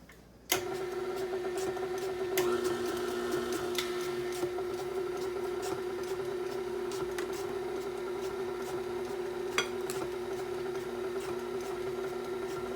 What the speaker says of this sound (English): I'm going to keep my mixer at a low speed so that my flour doesn't explode everywhere